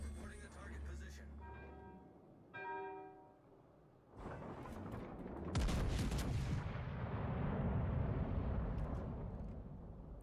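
Rail guns firing in World of Warships Legends: after a short stretch of voice, a heavy booming salvo hits, followed by a second louder blast that rumbles and rolls on.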